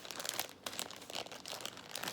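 Plastic bags holding 100 St. Patrick's Day beads crinkle and crunch continuously at close range, with dense rustling throughout and no talk.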